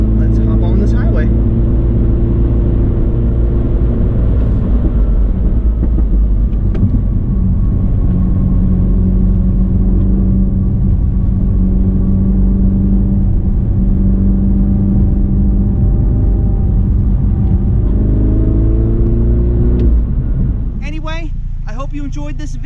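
A 2019 MINI John Cooper Works Knights Edition cruises on a highway, its engine and road noise forming a loud, steady drone that rises in pitch through the gears while a person talks over it.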